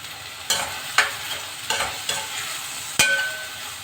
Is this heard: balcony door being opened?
no